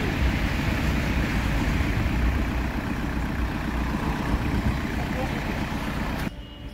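A homemade Farmtrac 35 mini tractor with a four-cylinder 35 HP engine runs nearby with a loud, steady, low rumbling idle, then cuts abruptly near the end.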